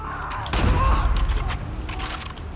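A shotgun blasts once in the video game The Last of Us, a heavy boom with a rumbling, clattering tail. It is fairly loud, and a player talks in French around it.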